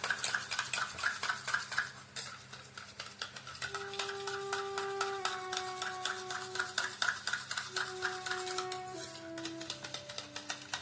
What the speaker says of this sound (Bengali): এটাকে আমি ভালো করে ফেটিয়ে নেবো, খুব ভালো করে ফেটাতে হবে।